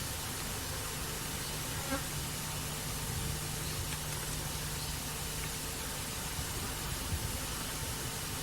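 Dense, steady buzzing of many bees carries on without pause, a soft continuous drone like a busy hive with no voices.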